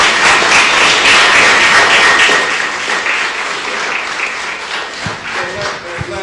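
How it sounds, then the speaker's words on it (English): A crowd applauds the First Tee youth golf coaches, loud sustained clapping with voices mixed in, gradually thinning toward the end. "I think you guys should give them a round of applause."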